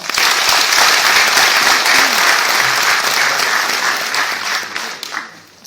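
A large audience applauds at the Karpik 2013 award ceremony, where honorary diplomas are handed out. The clapping is loud and sustained, thins out toward the end, and then cuts off abruptly.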